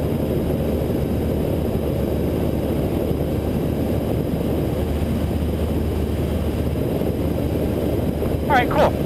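Light general aviation airplane in flight, heard from inside the cockpit as a steady, loud propeller and engine drone that fills the whole stretch without a break.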